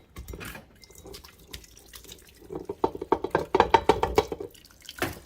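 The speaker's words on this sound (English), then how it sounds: "I'm going to go ahead and dump these into my crock pot." Beef rolls in tomato sauce are dumped into a crock pot, giving wet, sloppy splatters and glugging plops that build to a dense cluster of messy splashes, close by and with no talk.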